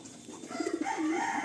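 A male pigeon at a loft sale gives a short, soft coo, a few throaty low notes rolling together over quiet room background, with no talking.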